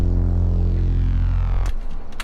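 Reese bass synth sub layer with a solid, deep low end, a loud sustained droning tone that cuts off abruptly, followed by brief fainter synth hits.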